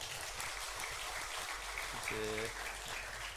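Congregation applause during a Korean church ordination service honoring an honorary deaconess: soft, diffuse clapping spread across the clip, a short spoken word and a brief sung or hummed tone midway.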